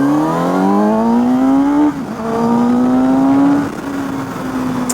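A Suzuki GSX-S 750 superbike accelerates hard, its engine note climbing steadily in pitch through one gear, dipping briefly at a shift, then rising again. The sound is loud and close, with no talk.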